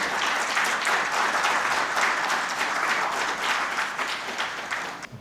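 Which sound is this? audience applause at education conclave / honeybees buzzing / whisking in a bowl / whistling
audience applause at education conclave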